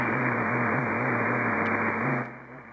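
A steady droning AM carrier tone on the 75-meter band with a low wavering hum sits under broadband radio hiss, cutting off abruptly near the end.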